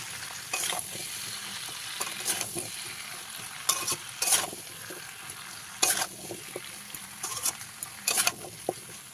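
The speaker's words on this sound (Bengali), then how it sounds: "পরিমাণ মতন হলুদ গুঁড়ো দিয়ে আবারও ভালো করে মিশিয়ে দিতে হবে" Vegetables for a Bengali pui shaak and pumpkin chorchori with fish head are stirred in a pan with salt and turmeric, giving a quiet, steady sizzle broken by repeated scraping strokes of the spatula every second or so.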